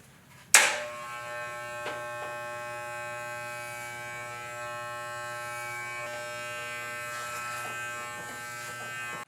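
Electric hair clippers with a guard switch on sharply and then buzz steadily and close while cutting hair, with a constant hum and small shifts in tone as they move.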